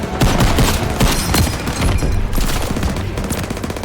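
Rapid gunfire in the Call of Duty WW2 Stronghold mission, dense overlapping bursts of shots cracking continuously and loudly with no pause.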